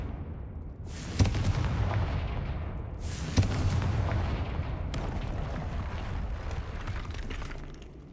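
Fiery blasting-spell explosions in the Hogwarts Legacy video game: two loud booming bursts a couple of seconds apart, each trailing into a rumbling roar, followed by a softer third blast and lingering crackle.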